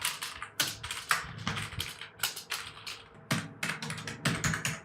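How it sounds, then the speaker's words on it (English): Fast, steady typing on a Zebion backlit gaming keyboard with soft clicky keys, a dense run of crisp taps and key strokes close up, with no voices. "Yes guys, typing is very smooth."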